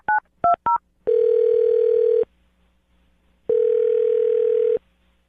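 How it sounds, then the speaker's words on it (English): A telephone dials a number: three quick touch-tone beeps, then two long steady ringback tones separated by a pause, clear and close with no voices. "I'm going to dial his phone number right now and see if we can get you an answer"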